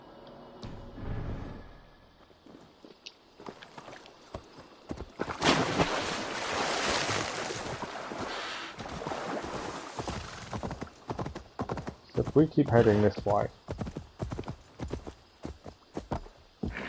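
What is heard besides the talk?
horse galloping in video game Assassin's Creed Valhalla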